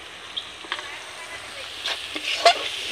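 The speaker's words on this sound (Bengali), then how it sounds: "আমি মশলাটা কষিয়ে নেব।" A spice masala with ground cumin frying in a pan makes a low sizzle broken by a few light scrapes and clinks of the spoon.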